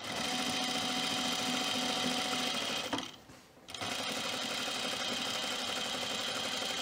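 A sewing machine runs steadily while stitching fleece for a pullover, a fast even whir that stops briefly partway through and then resumes at the same close, loud pace.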